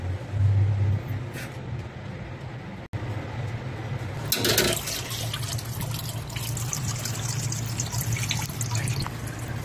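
Engine oil drains from the 14 mm drain plug of a 2023 Haval H6 2.0, a steady close trickle with spattering drips and a clatter partway through.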